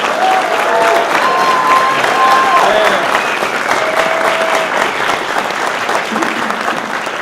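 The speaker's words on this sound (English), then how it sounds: "You deserve a round of applause." Steady, loud applause from a crowd at an elevator pitch competition fills the whole stretch, with a few cheers and voices rising over the clapping.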